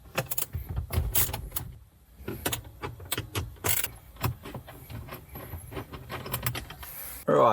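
Four 10 mm bolts being undone from a Toyota Prado dashboard during a head unit install, with a run of close, sharp metallic clicks and ratcheting taps, light rattles and shuffling in a quiet car interior.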